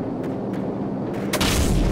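Cannon fire in the Call of Duty Modern Warfare video game: a heavy boom erupts near the end after a stretch of dull rumbling background, loud and close with no voices over it.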